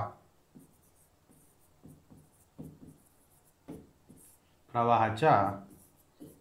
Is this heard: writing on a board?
yes